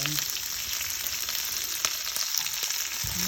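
Dried red chillies and curry leaves fry in hot oil in a pan for a carrot stir-fry, giving a close, steady crackling sizzle with no talk.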